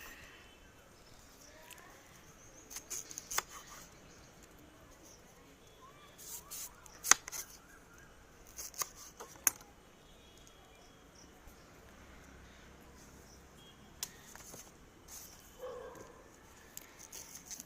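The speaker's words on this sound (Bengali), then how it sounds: "এইভাবে সমস্ত কচুর ডান্ডিগুলো আমি ভালো করে সাইজ করে নেব।" A knife cuts taro stems in sparse, irregular bursts of sharp clicks and chops against a cutting surface. Quiet handling noise fills the pauses between the cuts.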